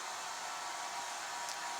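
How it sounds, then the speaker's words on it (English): A hair dryer runs in a nearby room of a Prague lodging, a steady, unbroken airy whoosh with a constant motor hum at moderate loudness, heard alone with no talking. "If you're hearing some noises, it's just Eve using the hair dryer."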